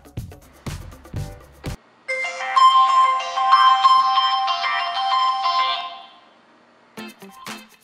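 A melodic ringtone plays loud and clear through the loudspeakers of Samsung Galaxy S2 and S2 HD phones, holding for several seconds. Short tonal blips and clicks come just before and just after it.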